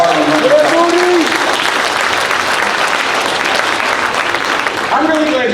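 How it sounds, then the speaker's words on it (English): An audience at a school district convocation breaks into sustained, loud applause that fills the hall. A speaker's voice is heard at the start and end of the clapping. "I'm really glad you clapped for that"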